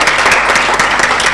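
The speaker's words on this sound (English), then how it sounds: "One round of applause," Audience applause at an African diaspora forum, a brief, dense burst of steady clapping from a crowd, loud and close with no talk over it.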